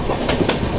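Tamil Nadu Express passenger train rolling along the rails between Itarsi and Nagpur, with close, loud rumbling and two sharp clickety-clack wheel beats over rail joints, and no voices.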